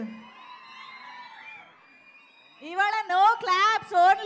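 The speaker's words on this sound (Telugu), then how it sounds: "ఇవాళ మీ అందరి కేరింతలు అరుపులు బాగానే వినిపిస్తున్నాయి" A crowd at a song launch event whoops and shouts in loud wavering bursts that rise sharply halfway through, after a stretch of quieter sustained tones.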